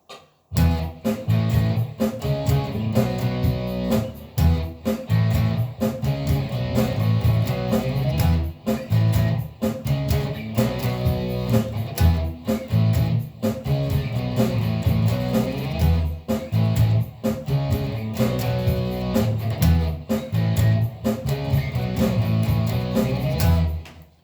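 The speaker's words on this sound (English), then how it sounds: "I've made a little backtrack which I'm going to play along with" Electric guitar power chords play over a full backing track in a loud, continuous dense mix that runs steadily for the whole stretch without any talking.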